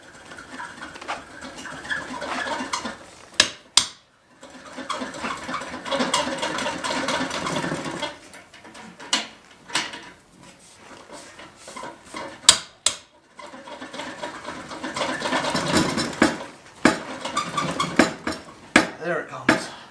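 Metal clanks and rattles as the exhaust comes off a 2018 Harley-Davidson Road Glide, with bursts of scraping and sharp knocks separated by short pauses.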